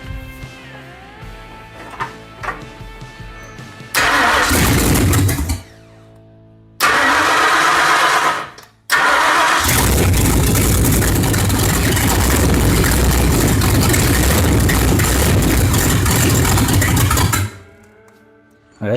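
A 1972 Ford Mustang Mach 1 engine cranking and firing for its first start, several loud bursts of starter and engine roar with short pauses, then a long sustained rough idle close by before cutting off.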